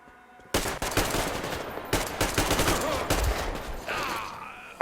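AK rifle gunfire in the shooter Metro Exodus: dense, loud bursts of automatic fire start abruptly after a brief lull and keep rattling with short gaps, closing on a sustained high whine.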